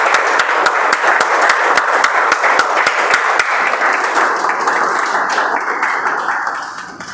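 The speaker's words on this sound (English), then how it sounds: "So let's give him a round of applause." Audience applause at a Toastmasters club's 175th milestone meeting: loud, close clapping with distinct sharp hand claps early on, thinning into a softer sustained patter that fades toward the end.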